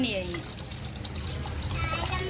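Water pours into rice for pulao in a continuous splashing stream, close and fairly loud, with a voice faintly in the background.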